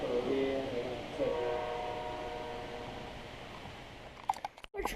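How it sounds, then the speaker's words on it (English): A train passes by a model railroad layout area in Brunswick, Maryland, with a rumbling roll and a sustained horn-like tone early on, fading toward the end where a few sharp clicks and knocks break in. "A train."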